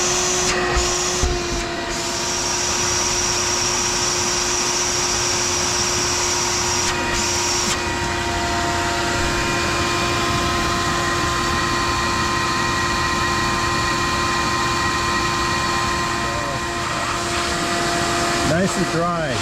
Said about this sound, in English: I think I've been running this vacuum for about 40 minutes or so.